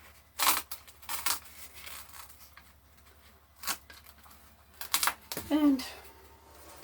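Several short, crisp snips from a scissor-like cutting tool working through plant pot material, scattered in separate bursts amid quiet handling noise.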